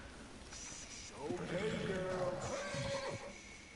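A horse in a Rockstar PS4 video game gives a loud, wavering whinny lasting about two seconds, with hoof clip-clops underneath and a quieter game soundscape before and after.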